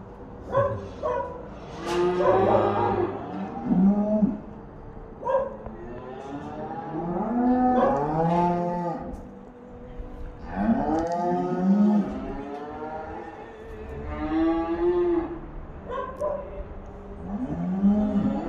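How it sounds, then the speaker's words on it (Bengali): Cattle on a South Korean farm low repeatedly and loudly. Overlapping moos rise and fall in long, drawn-out calls across the whole stretch, with little else beneath them. "এই যে আমাকে দেখে প্রত্যেকটা গরু দাঁড়ায় গেছে"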